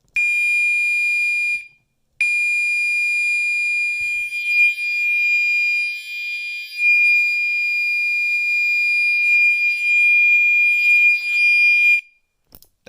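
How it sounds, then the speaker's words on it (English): A fire alarm wired to 9-volt batteries sounds a loud, piercing continuous electronic tone. It runs steadily, drops out once after about two seconds, resumes, and cuts off near the end. "That's how you wire a fire alarm to some 9 volt batteries."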